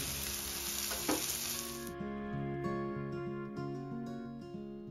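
Surmai (kingfish) fish fries in a pan, a steady close sizzle with a brief louder crackle near the start, continuing alone without talk.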